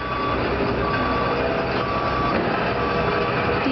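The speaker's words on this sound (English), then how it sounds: "Do you see a truck?" A truck reverses nearby, its steady repeating backup beeps sounding over continuous engine rumble and road noise, with no voices.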